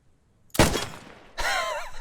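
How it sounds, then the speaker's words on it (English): Headshot impact on a helmet in the video game Post Scriptum: a sharp, loud thump with a crack, followed after a pause by a ringing, warbling metallic tail, close and alone. "we have that thump sound when you hit someone"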